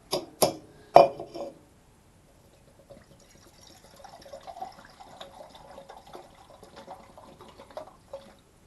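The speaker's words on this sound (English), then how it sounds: "filled that about half full of water" A few sharp clunks of handling, then a steady trickle of water poured into a container, filling it about half full for a DIY backpacker hot shower, faint and close, with no talking.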